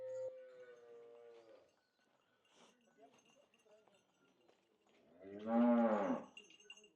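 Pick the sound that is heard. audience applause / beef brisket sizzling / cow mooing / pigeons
cow mooing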